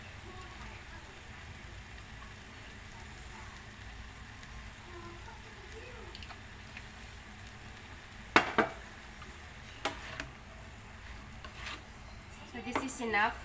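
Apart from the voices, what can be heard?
sautéing beef and vegetables with oyster sauce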